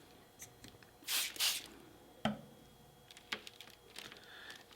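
Two quick bursts of a hand spray bottle misting water onto a coffee filter colored with washable marker, close and soft, followed by a few sharp taps and small handling noises in a quiet room.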